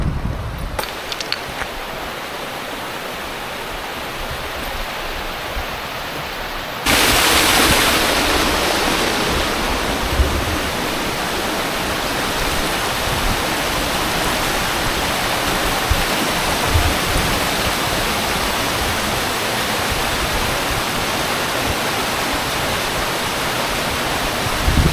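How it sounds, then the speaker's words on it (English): A partly melted alpine waterfall in Washington's high country roars as a constant broadband rush, jumping louder about a third of the way through as it is approached more closely, with no voices. "waterfall."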